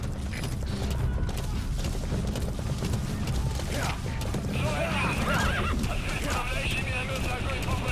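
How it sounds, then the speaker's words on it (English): Horse in the video game Metal Gear Solid V whinnies and gallops, with a clear neigh and rhythmic hoofbeats over game noise and mechanical creaks, at moderate loudness while a voice talks throughout. "we're gonna whistle for my horse now. My teleporting horse"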